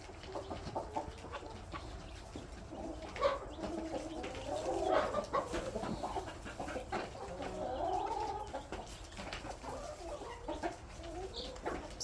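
A large flock of chickens clucks and murmurs nearby in a busy, overlapping chatter, with occasional louder squawks rising above the steady clucking.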